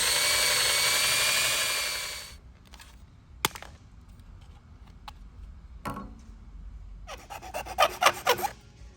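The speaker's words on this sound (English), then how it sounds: "You'll then cut between the two holes and then clean up the edges with the file." A hand file rasps against the cut edges of a hole in a Ford Bronco panel during a radio antenna install, a few short scraping strokes following a fading whine, ending in a quick burst of rapid rasps.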